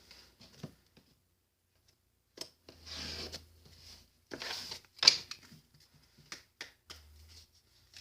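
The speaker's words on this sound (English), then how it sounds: "Breathe in, think about your question, and I'll cut the deck." A deck of Timeless Oracle cards is cut and handled up close, giving soft rubbing slides, brief card riffles and a few light taps separated by quiet pauses.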